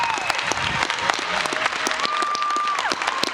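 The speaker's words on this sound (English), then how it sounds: "let's give another huge round of applause for the incomparable Brianna Scurry" An audience at a sports awards ceremony gives a sustained round of applause, dense clapping that stays steady and fairly loud throughout, with crowd noise and a voice faintly heard through it.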